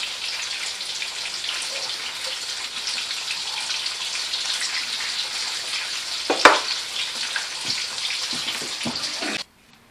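Pork tenderloins frying in a skillet, a steady hissing sizzle lasting nearly ten seconds with a brief clatter and pop midway before cutting off abruptly, no voices.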